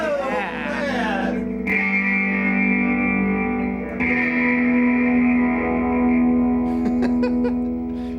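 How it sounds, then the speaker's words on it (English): An electric guitar plays through the spring reverb of a Silvertone Twin 12 amp, with sustained chords ringing out and washing into long reverberant tails across two strummed passages. "now I'm going to show you the crappy reverb on this amp."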